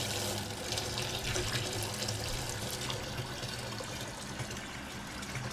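Water gushes from a pipe fed by an 18V battery stick pump, a steady, loud splashing flow that continues unbroken without any voices.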